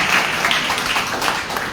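A church congregation claps together in praise to God during a sermon, producing a dense, steady wash of applause with no speech over it.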